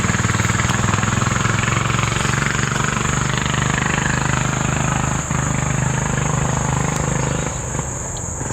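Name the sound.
turbocharged Temu 10HP diesel go kart engine running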